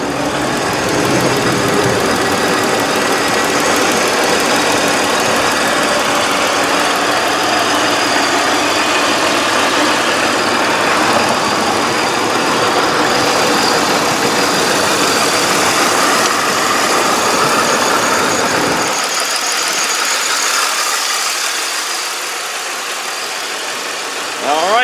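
A supercharged 3.8 liter V6 in a 2004 Pontiac Grand Prix GTP idles steadily for about twenty seconds with a broad whirring hum and a faint ticking, loud and close, then drops off near the end.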